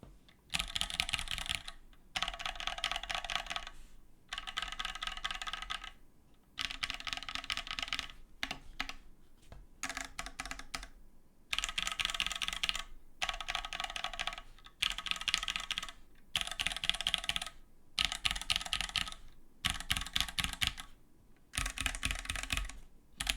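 Someone types on a computer keyboard in dense bursts of rapid clicking, separated by short pauses, close and clear with no talking.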